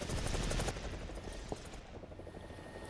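Helicopter flying in War Thunder ground battles, a loud close rotor thump and engine roar that eases off after the first second, with faint battle noise beneath.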